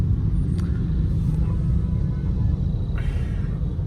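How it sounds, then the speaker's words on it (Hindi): Jammed road traffic in Karachi after rain makes a loud, steady low rumble of idling and crawling vehicles, with a couple of brief, faint higher-pitched sounds over it. "अब थोड़ी सी बारिश क्या हो जाती है कि पूरे का पूरा ट्रैफिक हर तरफ से जैम और ठीक ठाक जैम लग जाता है"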